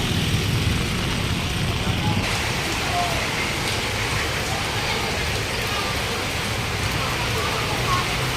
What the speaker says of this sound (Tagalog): nagpatila mo tayo ng ulan at lumakas yung ulan